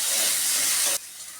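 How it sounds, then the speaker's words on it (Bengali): Potatoes seasoned with salt and turmeric are frying in oil, producing a loud, dense hiss that suddenly drops to a quieter sizzle after about a second. "এবার এই তেলের মধ্যে আমি আলুগুলো ভেজে নেব"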